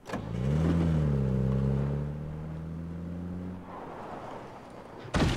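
Video game car engine revving hard as the car drives off, a loud sustained motor drone that falls away, then a short burst of noise at the end.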